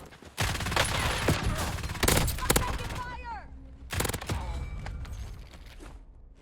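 Rapid, sustained gunfire from Warzone, the Ladra weapon, dense automatic bursts with a few sharp loud shots, continuing almost throughout.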